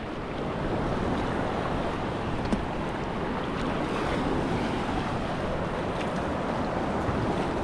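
Ocean waves and surf roll steadily at the shore, a dense continuous wash of water noise with wind buffeting the microphone throughout, loud and close with no talking.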